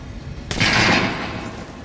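A single AK rifle shot in Metro Last Light Redux, a sharp loud crack followed by a roughly half-second ringing tail over steady low game ambience.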